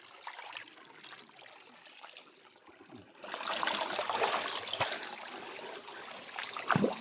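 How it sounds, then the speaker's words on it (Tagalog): Clear, fast-flowing stream water at Candies Falls, a steady rushing and trickling that swells louder partway through, close by and with no talking. "daloy ng tubig at napakalinaw,"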